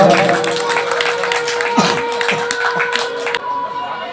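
An audience claps in a sustained patter at an evening cultural program, with a voice and a tonal background running over the applause.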